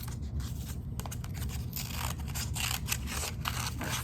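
Scissors snip through paper in a steady run of crisp cuts, shaping leaf-like wings for a bug craft, close and clear with no talking.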